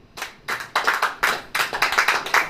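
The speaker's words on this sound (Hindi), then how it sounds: "अगर आप इस बात पे विश्वास करते हैं कि आप आनंदित हैं तो कस के ताली बजाइए।" Church congregation clapping hands in several bursts of sharp, rhythmic claps, close and fairly loud, with brief pauses between the rounds.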